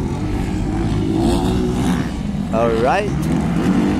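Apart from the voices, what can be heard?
motocross motorcycles racing, Inter 250cc final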